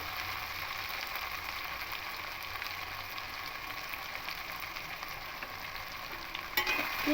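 Vegetables, potatoes and taro for a carp fish curry, fry lightly in a pan, giving a soft, even sizzle that stays faint and steady throughout, with a small clink near the end and no talk.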